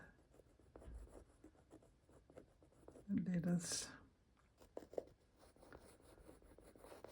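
Pencil making loose marks on a mixed media artwork, with a soft, close scratching in short strokes under quiet speech.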